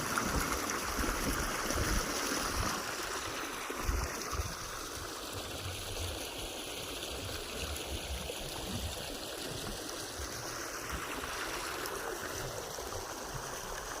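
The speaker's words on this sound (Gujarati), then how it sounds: "સાદી કૂવાનું પાણી આવે." Water from a farm well runs steadily into an irrigation channel beside a millet field, a continuous rushing trickle heard up close with no talking.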